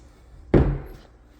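A kitchen drawer without soft-close hardware in a large home kitchen shuts with a single sharp thud, followed by a brief rattling decay.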